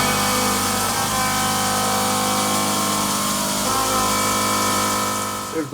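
A CNC machine mills a 375-pound aluminum block into an aircraft wingtip, cutting the fence around the wing at the same pass; a loud, continuous tonal whine holds steady with a shift partway through and no talking.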